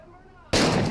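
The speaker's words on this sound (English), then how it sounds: "that man shot. He put one in my noodle" A single loud, sudden gunshot from the game Road 96, bursting in after a quiet moment and ringing on to the end.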